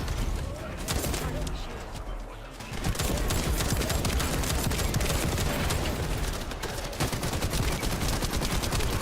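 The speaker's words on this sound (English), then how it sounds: "Almost out of bullets in that gun." Sustained gunfire from the shooter game The First Descendant, rapid bursts running nearly continuously and loud throughout, with a brief lull near the second mark, mixed with other game sounds.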